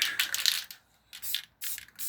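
Aerosol spray paint cans hissing in short bursts while painting a sunset beach scene, cold cans sputtering weakly; three close hisses separated by brief pauses, no voices.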